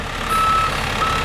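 Dump truck backing up on a dirt road, giving one clear electronic reverse beep and the start of a second, over steady low engine rumble close by.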